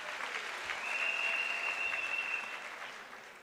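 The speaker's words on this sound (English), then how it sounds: "Can we give him the last round of applause," Graduation ceremony audience at a university giving a final round of applause, a steady, fairly soft, distant-sounding clapping wash with a faint high tone running through it.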